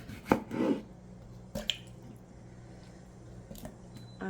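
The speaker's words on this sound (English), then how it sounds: "I'm going to cut my tomatoes and add it" Knife cutting tomatoes for a frugal Mexican soup, a few soft separate chops and squishy slices spaced out over a quiet kitchen background, fairly close and not loud.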